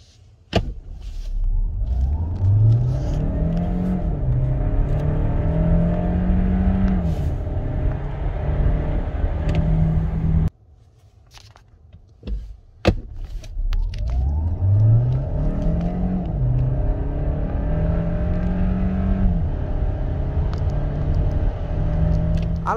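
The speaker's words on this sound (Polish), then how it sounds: "okolice 8-9 nam się udało uzyskać w przyspieszeniu 0-100, co aktualnie zobaczycie" A Hyundai Santa Fe Hybrid with a 235 hp powertrain accelerates hard from 0 to 100 km/h twice, its engine note climbing steadily through the gears. A loud, close, continuous drone is broken by a brief lull between the two runs.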